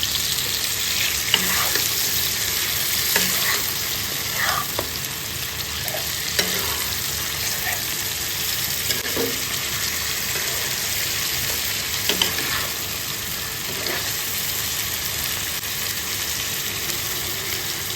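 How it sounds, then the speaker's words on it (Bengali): Chicken pieces fried and stirred in hot oil for a restaurant-style chicken curry: a continuous sizzle with repeated scraping stirs at irregular intervals, close and clear, with no voices. "সুন্দর করে এবার একটু নাড়িয়ে চাড়িয়ে তেলের সাথে চিকেনগুলোকে একটু মাখিয়ে নিই।"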